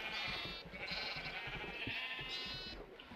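Minecraft sheep bleat in a farm-like pen, several overlapping nasal calls drawn out and fairly faint, with a soft shuffling background and no talking.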